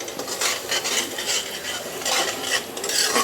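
Semolina roasting in ghee for suji halwa, stirred with a spoon against the pan: rhythmic scraping and soft sizzling, close and continuous, with no voices.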